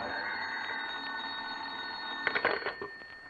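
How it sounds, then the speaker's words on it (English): An old telephone bell rings in a vintage radio drama, a steady metallic ringing tone heard close and alone, ending in a short burst of rattling clatter. "when the phone rang"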